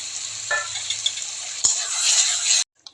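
Fried eggs and potatoes hiss and sizzle steadily in a pan of spiced masala, a loud continuous frying noise with a sharp clack midway and a few stirring scrapes, cutting off abruptly near the end.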